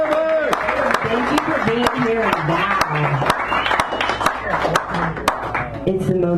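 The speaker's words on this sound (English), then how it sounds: "Can I get a round of applause for everyone for being here?" Audience at a San Francisco café poetry hour claps in scattered, uneven bursts throughout, with a speaker's voice talking over the applause.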